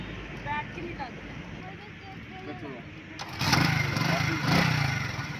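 Motorcycle engine catching after a kick start during a riding lesson, a rough idling rumble that swells louder midway and keeps running, with people talking over it.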